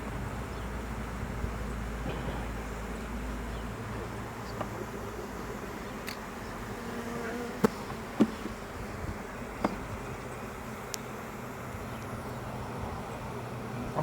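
Honey bees from a package hum in a steady, dense drone while being installed into a hive outdoors, with a few faint clicks and knocks from frames being set down.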